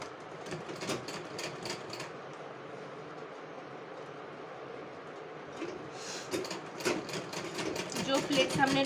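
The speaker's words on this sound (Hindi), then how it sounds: "जो प्लेट्स हमने डाली थी उन प्लेट्स पे इस तरह से एक साइड का फैब्रिक रखकर स्टिच कर लेंगे" A sewing machine stitches fabric onto pleats for a girl's fancy top, running in a steady mechanical whir with rapid needle clatter that speeds up near the end while a person talks over it.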